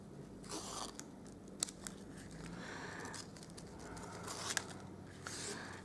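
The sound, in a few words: scissors cutting ribbon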